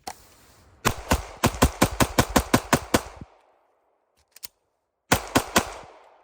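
Loud, sharp pistol shots from a Palmetto State Armory Dagger, first a quick string of about nine evenly spaced rounds, then a pause with a faint click, then another fast volley of four or five shots.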